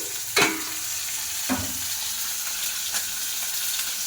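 Curry of eggplant, tomato and khoira fish sizzling fast over a high gas flame, with a steady close hiss and a few spoon scrapes against the pan.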